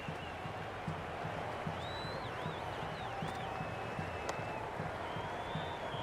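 A cricket stadium crowd at a Sydney Sixers versus Guyana Amazon Warriors match makes a steady dense roar of applause and chatter with scattered whistles rising above it, while a commentator's voice runs faintly underneath.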